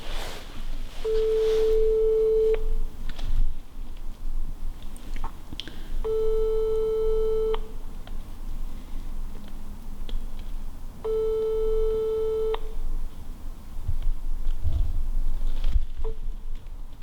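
A telephone call ringing out over a speakerphone inside an abandoned retirement home, giving three long, steady electronic ring tones at even intervals, clear and fairly loud against a low hiss of room noise.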